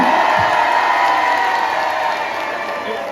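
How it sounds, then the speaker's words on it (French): A concert crowd at a Point Éphémère show roars with cheers, whoops and scattered clapping, a loud dense mass of voices that gradually eases over a few seconds. "Faites du bruit, faites du bruit."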